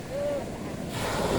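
Surf rolls in at San Juan, La Union beach, a steady close wash of waves with wind buffeting the microphone and swelling louder toward the end.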